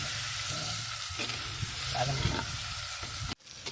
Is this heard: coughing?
no